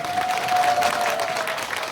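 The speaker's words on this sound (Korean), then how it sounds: "박수라도 한번 쳐줘" A crowd applauds at an outdoor charity performance at Changwon Sports Park on a cold December day, a steady, dense wash of clapping that holds for about two seconds.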